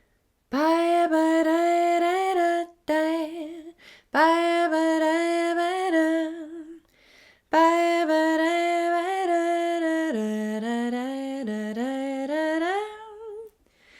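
A single voice sings the melody of the ukulele intro to a song from Grease in three sustained, wavering phrases with short breaks, close and clear, with no clear instrument behind it.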